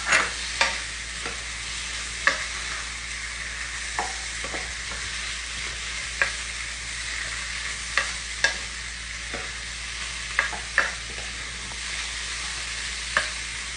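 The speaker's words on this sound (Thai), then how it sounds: "นี่เราจะใส่กุ้งลงไปนะคะ" Shrimp stir-fried in a hot pan for a Thai dish with shrimp paste and stink beans: steady loud sizzling with repeated sharp spatula clicks and scrapes throughout, no voices.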